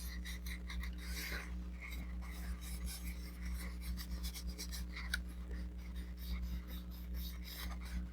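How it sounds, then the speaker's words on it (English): Fingers rub firmly along the glued paper edges of a heart-shaped treasure box, a faint, continuous rasping friction in short repeated strokes over a low steady hum. "we rub each of the edges really well to get it adhere"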